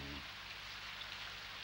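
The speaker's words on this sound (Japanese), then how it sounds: "梅雨やもん。" Steady rain falling during the rainy season, a soft continuous hiss of drops on surfaces throughout, even and moderately faint with no voices over it.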